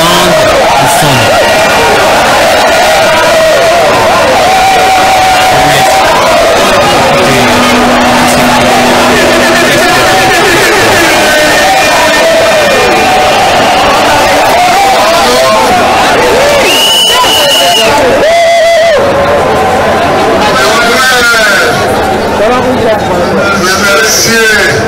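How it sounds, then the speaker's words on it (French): A crowd of Laurent Gbagbo's supporters chants his name at a political speech, a loud, dense wall of massed voices that carries steadily throughout with scattered sharper shouts. "la foule, les militants de la population présente scandent son nom"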